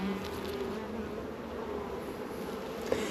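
Honey bees drone steadily around an open hive during a beginner's frame inspection, a soft, continuous buzzing swarm at moderate distance with no voices over it.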